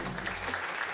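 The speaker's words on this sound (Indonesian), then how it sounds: "Tepuk tangan dulu buat semua di sini." Brief audience applause at an MPLS 2023 school orientation gathering, a short burst of moderate clapping from a crowd in a hall.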